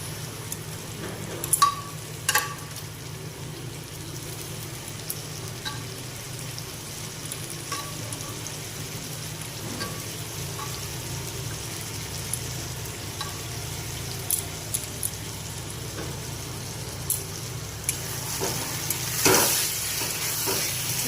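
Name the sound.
boiled mutton added to tomato masala, sizzling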